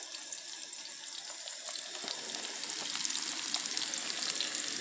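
Fish fries in hot oil in a pan, giving a steady, dense sizzle and crackle that swells slightly as it goes on, close by with no talk.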